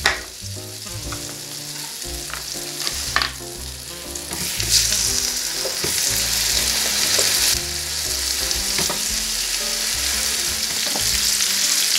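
Apples and pork loin sizzling loudly in butter in a hot pan, a continuous frying crackle with occasional stirring clatter, growing fuller partway through.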